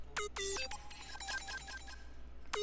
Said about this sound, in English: The lead's called Particles.